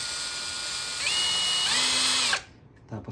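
A RYOKU impact drill runs with a loud, high-pitched whirring whine that rises in speed partway through, then cuts off abruptly, followed by a brief mechanical click.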